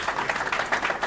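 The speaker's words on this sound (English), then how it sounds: "why am I clapping for myself?" A single person claps during a talk at a retro computing convention, a brief run of about six quick, even hand claps, close and moderately loud.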